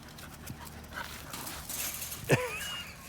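Puppies and dogs playing indoors, with rapid close panting, scuffling paws and a brief sharp yelp or squeal near the end, fairly quiet overall.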